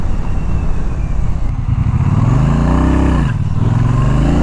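A Triumph Bonneville T120 motorcycle accelerates hard from a standstill toward 60 mph, its engine note climbing steadily in pitch, dipping briefly at a gear change, then rising again, loud and close with no talking.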